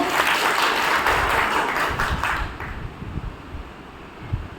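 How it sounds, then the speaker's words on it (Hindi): Applause breaks out for a man at a Brahma Kumaris spiritual gathering, a burst of clapping from a seated audience that fades off after a couple of seconds into quieter room noise. "भाई के लिए ताली बजाएंगे सर।"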